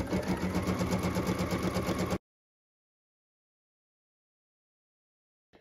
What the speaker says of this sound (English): we're going to get started by stitching the bow felt placement line directly onto the stabilizer.